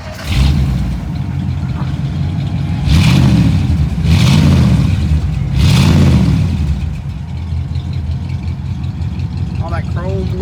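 A 1956 Ford Fairlane Sunliner convertible engine, exhausting through the bumper, rumbles at idle, then revs up loudly three times in a row, each surge swelling and falling back before settling into a steady idle.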